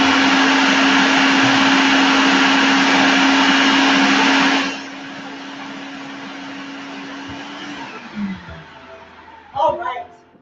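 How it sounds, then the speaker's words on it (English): A food processor whirs steadily and loudly as oil is added, then cuts off partway through, leaving a quieter hum and a few clattering handling knocks near the end. "And again, let's food process up"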